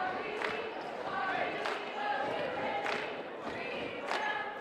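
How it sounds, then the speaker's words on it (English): A high school basketball student section stomps on gym bleachers in a regular rhythm of dull booming thumps, roughly one per beat, under a steady roar of crowd noise in a large echoing gym. "Stomping their feet on the bleachers."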